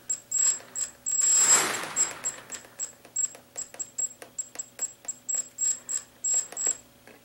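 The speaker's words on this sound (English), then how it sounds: "Say the quadcopter is making some quick changes to the throttle on this thing" A quadcopter motor driven by a faulty ESC under quick throttle changes gives a series of short stuttering bursts of clicking and ticking with a high tone, close and irregular, one longer whir early on.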